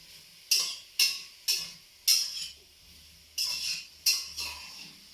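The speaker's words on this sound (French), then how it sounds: "Je remue." A spoon stirs jambalaya with spicy chorizo in a saucepan over raised heat, giving six distinct scraping strokes in an irregular rhythm, close and fairly quiet, with a faint low hum of the burner between them.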